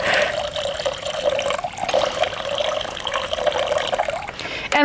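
Distilled water pours steadily for homemade beef tallow bar soap, a continuous close splashing stream that runs the whole time and ends with a brief louder clatter.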